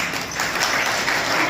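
An audience at a training-day gathering claps for Nitinbhai, a dense and even burst of many hands applauding at once, fairly close and filling the whole moment.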